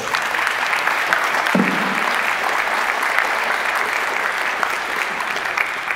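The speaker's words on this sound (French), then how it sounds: "Ça aussi, ça mérite un applaudissement supplémentaire" An assembly in a Paris town hall hall applauds a flag bearer, a continuous, loud and even rattle of many hands clapping that carries on unbroken from start to finish.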